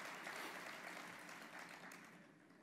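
An audience at a town New Year's greetings ceremony applauds, a continuous wash of many hands clapping that is very faint and distant and tapers slightly toward the end.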